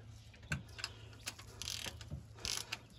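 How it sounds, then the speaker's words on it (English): A torque wrench tightens head bolts on a 1981 Ford F150 during a head gasket change, giving a few sharp, close mechanical clicks and ratcheting taps spread unevenly over a quiet garage background. "now I'll be listening for the click right there. If you can listen, click."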